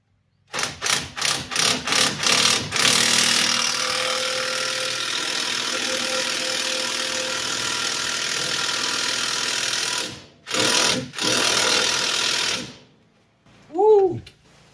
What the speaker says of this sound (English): Now, that's a 260 foot-pound impact.